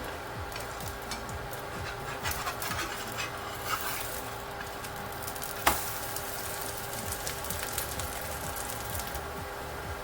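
A methi chilla cooks in a pan over a low flame, giving a quiet, soft sizzle with faint scattered crackles and one brief sharper tick.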